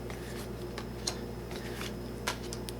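Dixit Odyssey picture cards being shuffled at a tabletop, giving a few soft, brief papery riffles and flicks over a steady low room hum.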